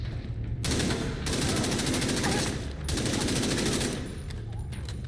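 Light machine gun fire in the video game The Division 2, two long loud sustained bursts of rapid automatic shots, close and dense, separated by a short pause.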